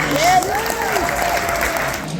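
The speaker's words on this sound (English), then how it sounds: "can we get a round of applause for our sponsors and donors?" An audience at the Florida RV Supershow content creators summit claps for sponsors and donors in a brief, full round of applause, with voices and a short whoop heard through the clapping.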